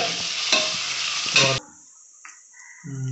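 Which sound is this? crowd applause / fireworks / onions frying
onions frying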